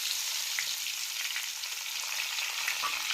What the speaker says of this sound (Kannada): ಸ್ವಲ್ಪ ಉಳ್ಳಾಗಡ್ಡಿ ಏನೈತಲ್ಲ ಚಲೋ ತಂಗಿ ಫ್ರೈ ಮಾಡ್ಕೊಂಡು ಎಣ್ಣೆ ಒಳಗೆ ಫ್ರೈ ಆಗ್ಬೇಕ್ರಿ